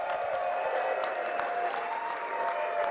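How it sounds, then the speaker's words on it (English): A crowd at an Affiliate Summit conference session applauds and cheers in a steady, dense roar of many hands clapping throughout, with no single voice standing out. "So everybody just start cheering as loud as you can for,"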